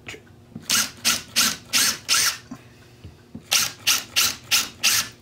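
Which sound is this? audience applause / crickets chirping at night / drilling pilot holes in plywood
drilling pilot holes in plywood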